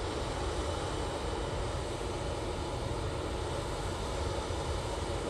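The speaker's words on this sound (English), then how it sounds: "We have the Aer Lingus now on short final for T3 right." Aer Lingus airliner on short final approach to land at Manchester, a steady, loud broadband engine roar that holds throughout without a break.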